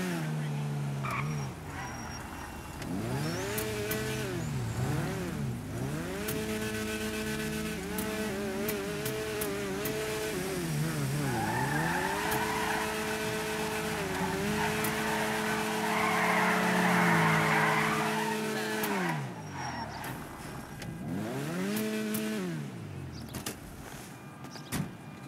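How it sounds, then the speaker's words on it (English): A Lada car on a test drive, its engine revving up and down through gears with tire skidding and squeals, close and loud, with a voice speaking over it. "It's time to take LADA for a test drive."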